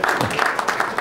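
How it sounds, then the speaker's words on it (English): A crowd watching a one-pocket pool match at the 2004 Derby City Classic claps, a dense burst of applause close by with faint voices mixed in. "Crowd of applause."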